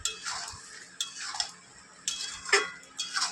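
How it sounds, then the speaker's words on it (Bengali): Fried potatoes being stirred and tossed in a pan for veg fried rice, a series of distinct metallic scrapes and clinks of the spatula every half second or so, close and fairly crisp over a quiet background. "আলুগুলো ভেজে রেখেছিলাম, এইভাবে নেড়ে নেড়ে কষিয়ে নেব।"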